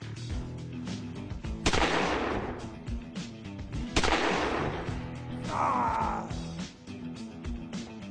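Gunshots in a video game: several sharp, booming shots spaced a couple of seconds apart, each with a noisy tail, over a busy game soundscape with a brief whooshing effect.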